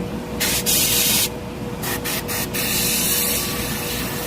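Harder & Steenbeck Infinity CR+ airbrush with a 0.15 mm tip spraying thinned black lacquer onto paper, giving several short bursts of bright hiss over a constant low air flow, close up.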